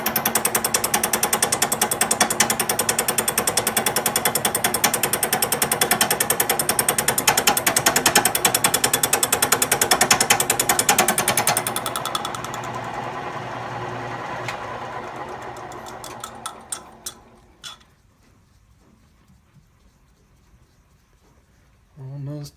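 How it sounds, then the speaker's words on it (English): Bridgeport milling machine making a cut in a shop, a loud rapid rhythmic chatter for about twelve seconds that fades into spindle wind-down with scattered clicks, then near-silence before a short final burst. "I'm gonna go ahead and make one big cut as soon as I turn the spindle the right way"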